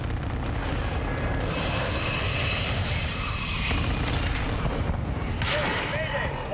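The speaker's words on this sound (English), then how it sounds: "Enemy precision airstrike." Heavy rumbling booms and roaring engine drone from a precision airstrike in the battle royale shooter Call of Duty: Warzone, a dense continuous barrage of loud blasts.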